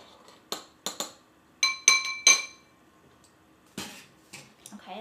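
A utensil clinks against a bowl while potsticker filling is stirred with sesame oil, a handful of bright chinks in small clusters, then softer scraping taps, close and fairly quiet.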